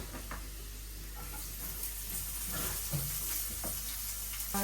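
Dried shrimp and chopped onion frying in a pan with Radhuni spice mix, a soft steady sizzle punctuated by light stirring scrapes and small knocks, fairly quiet and close.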